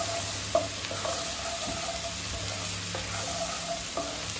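Ginger garlic paste frying in a pan, a steady close sizzle with a few light clinks of stirring, no talking.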